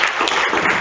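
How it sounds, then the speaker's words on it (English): Quiz competition audience and teams clapping together, a brief dense burst of applause filling the room at close range with no voices over it. "Give big clap for all of us."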